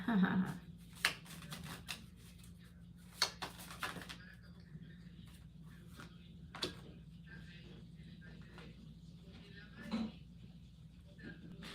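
Tarot cards are shuffled by hand in repeated short, crisp riffles and taps, while a person talks throughout.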